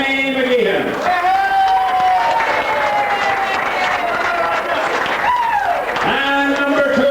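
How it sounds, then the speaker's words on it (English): An audience in a lounge in Ardara claps and cheers for the Glamorous Granny contestants, a dense, sustained round of applause close by, with tonal music or voices drifting over it. "I would ask you to give them a very special round of applause"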